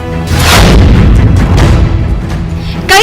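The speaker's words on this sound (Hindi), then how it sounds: "फायरिंग के समय दो नाली का मुंह सामने दीवार की ओर था" A double-barrel gun fired during a dance gathering, with a loud booming report that rolls on and rumbles through the crowded space, heavy low-end echo, and a second sharp crack at the very end.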